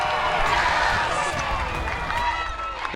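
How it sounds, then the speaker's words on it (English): A large arena crowd erupting in loud cheers and shouts after a winning deadlift at a strongman competition, a dense roar that slowly eases toward the end. "The crowd, they erupt."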